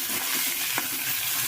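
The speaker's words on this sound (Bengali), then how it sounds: "এই বাঁধাকপিটা দিয়েছি কড়াইতে" Pre-boiled cabbage is stirred in a kadai (wok), giving a close, steady frying sizzle with a spatula scrape and clack partway through, and no one talking.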